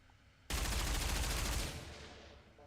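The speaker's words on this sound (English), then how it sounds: "Bullets strike the spot where Yuna was standing." Rapid burst of automatic gunfire erupts suddenly in the Nikke shooter game, a dense loud volley lasting about a second before tapering into a fading echo.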